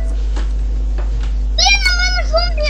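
A cat meows in a Minecraft game session, a drawn-out harmonic mewing cry in the second half over a steady low hum, with faint soft sounds before it.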